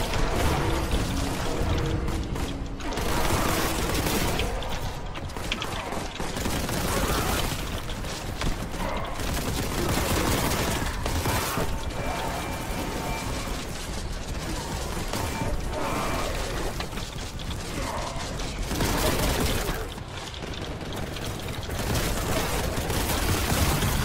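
Enemy gunfire in the shooter game Warhammer 40,000 Boltgun, a dense, continuous barrage of shots and booms that keeps going almost without pause at high loudness.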